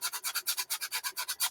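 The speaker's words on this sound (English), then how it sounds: "then I'm going to start sanding off this" Hand sanding of cracked, flaking paint, a quick regular back-and-forth rasping with about a dozen strokes, close and bright.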